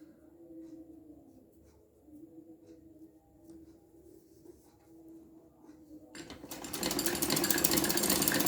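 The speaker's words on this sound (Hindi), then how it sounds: "तो ये मैंने सिलाई कर दी है।" Sewing machine stitching strips of fabric for a kurti sleeve, quiet and intermittent at first, then a loud continuous whirring burst of stitching near the end, no voices.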